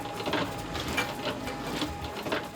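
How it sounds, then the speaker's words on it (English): A running printing press clatters with a steady mechanical rhythm, repeated soft thumps and rattles at a regular pace, moderately close and continuous, with no voices. "The magic of the press is it's definitely the sound while it's running."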